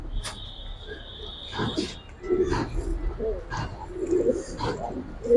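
Giribaj silver pigeons coo in low, soft bursts at a pigeon sale, while people talk nearby over a steady background hum.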